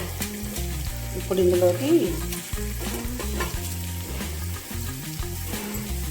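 Spices and drumsticks sizzle loudly in a hot pan for a Telugu drumstick-leaf and drumstick tamarind curry, with a steady crackling fry, repeated stirring scrapes and a brief spoken phrase over it.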